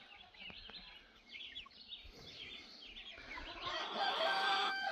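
Meat chickens pecking at melons on a farm, a flock clucking and calling in overlapping bursts that grow louder and busier toward the end, heard fairly close.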